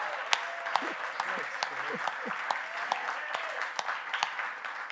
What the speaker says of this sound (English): so a round of applause for that family.